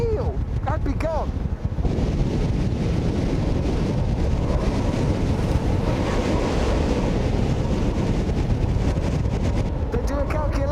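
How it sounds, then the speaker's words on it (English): Strong wind blowing at a windy coastal site, a loud relentless roar and buffeting across the microphone throughout, with a voice speaking briefly at the start and end. "that's the wind speed at which you're going to get into trouble, which is about this wind speed"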